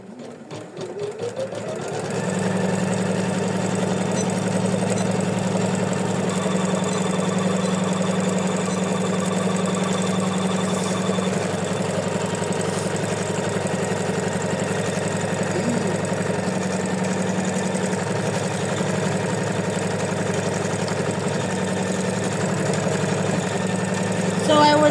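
An embroidery machine stitches quilting stitches on an in-the-hoop coaster, a steady, loud mechanical whir with a low rapid needle beat running continuously after a brief start.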